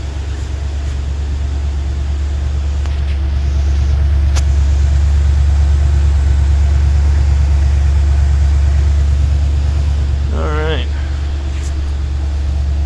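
A 1981 Buick Electra Park Avenue with three or four mufflers idles after a cold start, a steady, quiet, low rumble that continues throughout, with a brief whistle-like chirp near the end.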